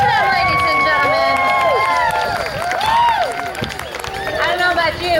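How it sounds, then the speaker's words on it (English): A crowd at a jousting tournament cheering for the jousters; loud, close whooping and shrill yells overlap in a burst that swells and then eases slightly, with some scattered clapping beneath. "Let's cheer for them, ladies and gentlemen."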